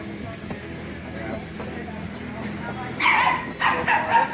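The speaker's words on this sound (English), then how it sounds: "Other than a noisy dog" A noisy dog on a beachside promenade in La Peñita, Riviera Nayarit, lets out a few loud yipping barks near the end, over a background of talk and ambient street noise.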